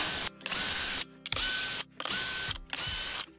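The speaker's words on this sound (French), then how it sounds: "on va venir enlever les 5 vis cruciformes de 20 qui sont ici" A screwdriver removes Phillips screws from the casing of a Calor steam generator with quick, close ratcheting clicks in four short bursts separated by brief pauses.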